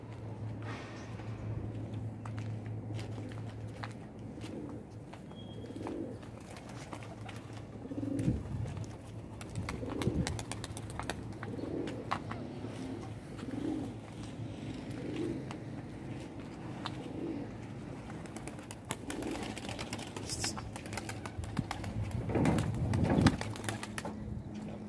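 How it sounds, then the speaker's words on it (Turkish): Domestic tumbler pigeons coo repeatedly at a pigeon keeper's loft, soft throaty calls recurring every second or two over a low steady background hum, with occasional bursts of wing flapping near the end. "Bizim için kuş uçurdun."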